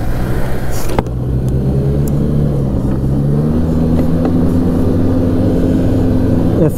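A 2016 Arctic Cat Pantera 3000 snowmobile with a 700cc engine runs loud and steady, its droning note slowly rising in pitch as it revs, with a couple of clicks early on.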